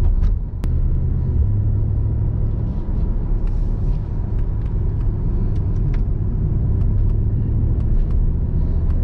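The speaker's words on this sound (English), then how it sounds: "The sound with the exhaust on in comfort is just so good, guys. Just listen to it. You hear the V8 rumble." A deep, steady Mercedes-AMG SL63 V8 exhaust rumble with a throaty low burble in comfort mode on the autobahn, continuous and loud from close by, with faint road noise and no talking.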